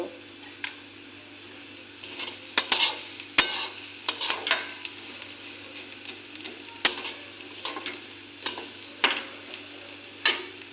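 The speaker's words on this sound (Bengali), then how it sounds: "গ্যাসটা কমিয়ে ভাজা ভাজা করে নেব" Puffed rice seasoned with black salt and pepper is dry-fried in a pan over a low gas flame, with repeated scraping and rattling strokes of a spatula against the metal over a faint sizzle.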